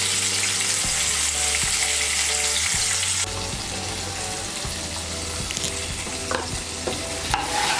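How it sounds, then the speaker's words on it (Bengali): Four large pointed gourds seasoned with salt and turmeric fry in hot oil in a pan, with a loud, steady sizzle and crackle and occasional stirring clatters, the sizzle softening partway through. "ওই তেলের মধ্যে আমি পটলগুলো ভেজে নেব"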